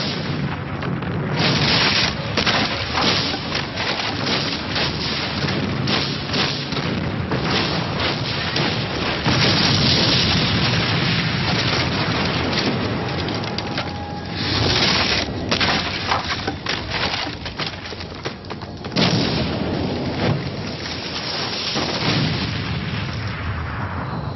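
Artillery fire and explosions in a war documentary about the Battle of the Bulge: a dense, loud barrage of booms, blasts and crackling splintering impacts, continuous for the whole stretch with no voices over it.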